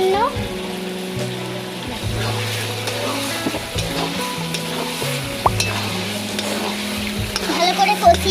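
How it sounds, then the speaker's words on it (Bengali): Chicken kosha frying with spices and Kashmiri red chilli powder, stirred steadily in the pan; a continuous close sizzle with scraping strokes of the spoon, while a voice talks underneath. "নেড়ে নেড়ে ভালো করে কষিয়ে নিতে হবে"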